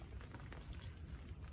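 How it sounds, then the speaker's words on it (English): Steady rain patters at a winter lakeside carp fishing swim, soft and close with a dense pattering texture throughout. "Rain's easing off slightly, but it's due to stay in all day."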